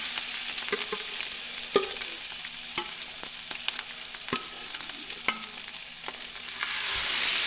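Trout fillets, thin and coated in a garlic and herb mixture, fry in a hot pan with a steady close sizzle, broken by sharp clicks and taps as pieces are dipped and flipped; no one talks.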